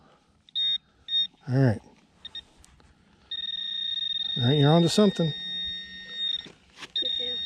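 Short electronic beeps, then a sustained high tone from a Garrett Ace Apex metal detector and pinpointer sounding over a voice, stopping and restarting at the end.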